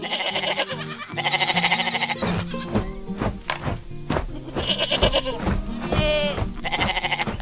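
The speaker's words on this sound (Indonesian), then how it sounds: "Lihat kambing putih itu" White cartoon goats on a farm bleat repeatedly, their wavering, nasal cries overlapping loudly and close up, with busy background sounds between calls.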